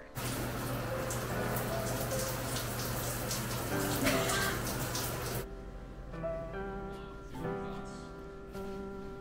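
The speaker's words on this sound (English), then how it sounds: "Now it is time for this glorious thing" Shower water runs steadily in a bathroom, a dense hiss of spray that stops abruptly partway through, leaving quieter drips and small tones afterward.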